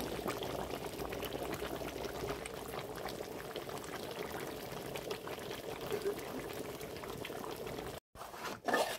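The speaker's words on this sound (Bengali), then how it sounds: "এখানে মাসি মাংসটাকে সুন্দর করে কষিয়ে অল্প পরিমাণ জল দিয়েছে" A home-cooked meat curry simmers after a small splash of water is added, giving a continuous soft bubbling and liquid hiss that cuts out briefly near the end.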